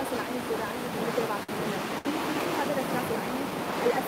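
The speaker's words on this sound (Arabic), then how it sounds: "صوت الموج لدرجة عالية" Sea waves rolling onto the shore at a coastal nature reserve at sunrise, a steady loud wash of surf with two brief dropouts, and faint indistinct voices underneath.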